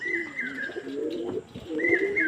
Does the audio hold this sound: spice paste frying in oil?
no